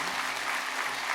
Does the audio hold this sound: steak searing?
no